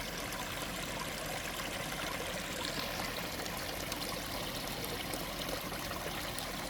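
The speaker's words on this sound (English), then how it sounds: "This stream or river, that is, it's named after my wife." A small backyard stream or river tumbles over rocks, giving a steady, close, even wash of flowing and trickling water with no voices.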